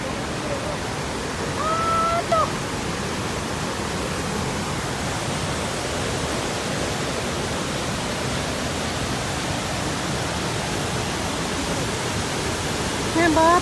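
Waterfall roaring as a broad, steady wash of falling water, loud and constant throughout, with brief voices at moments.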